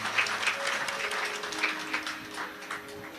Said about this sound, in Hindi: एक बार इन सभी के लिए जोरदार ताली बजाकर स्वागत अभिनंदन